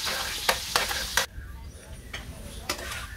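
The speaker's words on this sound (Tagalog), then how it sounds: "Tapos isunod natin igisa yung ating sibuyas tsaka bawang." Onion and garlic sautéing in a pan for pork giniling, a soft sizzle running throughout with a few sharp scraping stir strokes near the start, fairly close and moderate in level.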